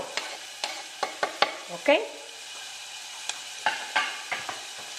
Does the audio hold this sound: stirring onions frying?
yes